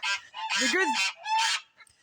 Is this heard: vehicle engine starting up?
no